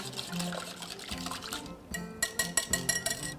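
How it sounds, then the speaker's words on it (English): A whisk stirs buttermilk in a bowl, wet clinking strokes that grow into a quick rhythmic tapping toward the end, over faint background music. "And then we'll take our whisk and combine that."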